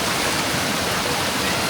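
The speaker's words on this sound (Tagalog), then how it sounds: "Agos na, papunta baba." Water pouring down at Tinago Spring Falls, a steady broad rushing roar that stays constant and close for the whole short stretch, with no voices.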